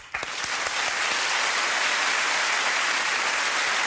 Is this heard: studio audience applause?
yes